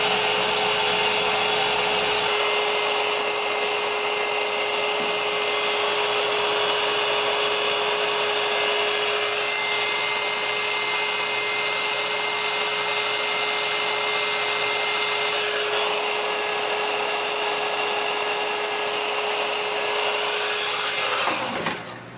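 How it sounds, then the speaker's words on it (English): A heat gun runs steadily and loud without pause while heating a PVC pipe at the bend for a pack frame, a constant airy roar with a fixed hum that cuts off at the very end. "fire up the heat gun. Basically just going to concentrate the heat on the bend"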